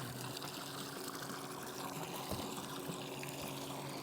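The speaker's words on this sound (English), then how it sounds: "get all that water running down" Water drains and trickles out of a boat hull in a faint, steady, continuous wash with no voices.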